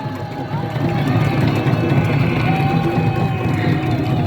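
A large outdoor crowd cheers and claps at a peace and unification march rally by a bridge. The roar is steady and dense, with babble and engine noise running under it.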